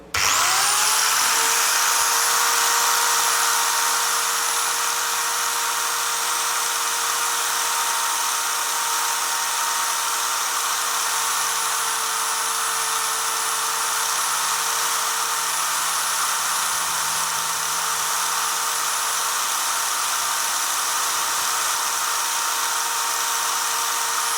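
Gtools GT11+ angle grinder run up to full speed with no load, a loud, close, high-pitched whine that holds steady for over twenty seconds, with no talking.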